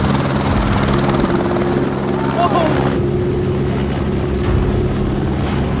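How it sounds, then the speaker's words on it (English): A California police helicopter flies nearby with a loud, steady rotor drone that runs throughout, while a voice talks over it. "rigged their helicopter to fly under the control of an Xbox controller"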